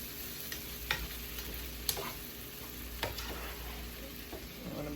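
Kale going into a pan of frying onion, garlic and sweet potato, a soft steady sizzle broken by a few sharp clicks and scrapes of stirring, with no talking.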